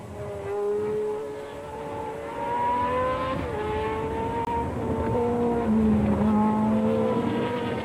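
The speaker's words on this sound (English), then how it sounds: "Like Andretti, powered by Cosworth's venerable V8 engine that had debuted back in 1967." 1976 Formula 1 cars powered by Cosworth V8 engines scream past, their high-pitched engine notes rising and falling through gear changes, several cars overlapping at moderate distance.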